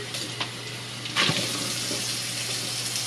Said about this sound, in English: And then we give them a good rinse